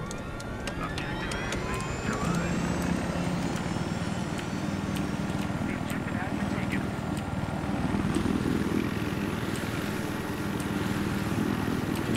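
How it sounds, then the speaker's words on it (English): Helicopter flying in a video game, a steady loud rotor and engine drone running throughout with no breaks, with voices talking over it. "I'm getting back in my helicopter."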